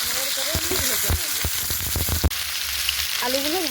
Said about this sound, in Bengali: আলুগুলো ভাজার সময় একটু হালকা করে আমি লবণ দিয়ে দিই, ঢাকা দিয়ে আস্তে আস্তে ভাজবো।